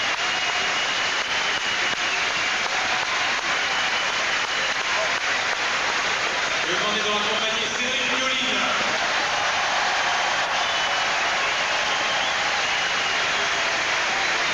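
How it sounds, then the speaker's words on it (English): Crowd at the Bercy indoor tennis arena in Paris in 1997, applauding Patrick Rafter with a steady, dense wash of clapping and cheering that swells in the middle, sustained throughout under a commentator's voice. "And listen to the crowd."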